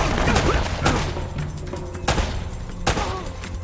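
Gunfire in Uncharted: Drake's Fortune rings out as several loud, sharp shots spaced apart over a dense background of game noise and effects.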